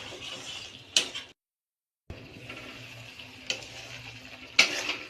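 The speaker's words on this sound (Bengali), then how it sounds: "এবার মশলাটাকে ভালো করে আমি কষবো।" Spice paste stirred and fried in a pan for a fish curry with potato and eggplant, giving soft scraping and sizzling with sharp spatula clacks near 1, 3.5 and 4.6 seconds, broken by a brief full silence.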